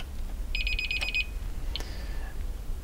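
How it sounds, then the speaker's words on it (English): A DSC WT4911BATT Alexor wireless alarm siren gives a quick run of sharp, high electronic beeps during battery depassivation, followed by a short chirp, over a steady low background hum. "as it goes through its depassivation, you heard it beep"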